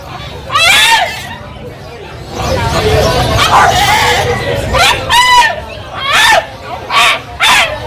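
A female dog at a pet market barks and yelps in sharp repeated outbursts with whimpering between them, close and loud over a busy background of crowd chatter and voices.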